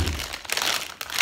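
A bag of peanut corn puffs being opened: loud, close plastic crinkling and crackling in several bursts, with a brief pause before a final rustle.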